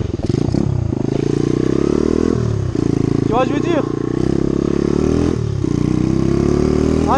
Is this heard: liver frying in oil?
no